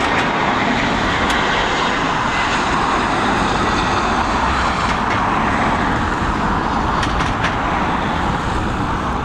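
Jet airliner departing Dublin Airport, a loud steady roar of engines at full thrust filling the air without a break, with no talking.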